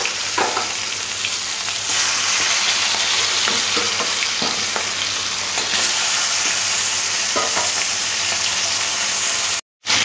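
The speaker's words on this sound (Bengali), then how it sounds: "ইলিশ মাছ আগে থেকে নুন আর হলুদ আমি মাখিয়ে রেখেছিলাম। এবার হালকা করে ভেজে নেব।" Hilsa fish pieces rubbed with salt and turmeric fry in hot oil, a loud, continuous close-up sizzle with occasional stirring clicks. The sizzle drops out briefly near the end.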